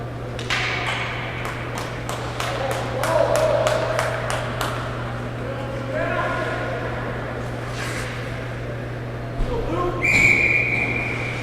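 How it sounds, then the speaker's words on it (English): A referee's whistle at a lacrosse game sounds in a few short blasts amid crowd and gym noise, with sticks and ball clacking and a steady electrical hum underneath; a final longer shrill blast stands out near the end. "Face off after the whistle goes into Hill."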